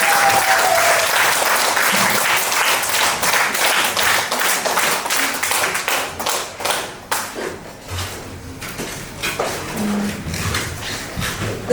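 An audience at an arts event breaks into loud, sustained applause that slowly thins out into scattered claps and a few thumps.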